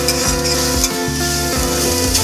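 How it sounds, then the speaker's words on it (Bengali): Grated coconut fries over a low flame with a loud, continuous sizzle and repeated spatula strokes scraping the pan, close up. "নারকেলটাকে আমরা একটু ভালো করে ফ্রাই করে নিচ্ছি।"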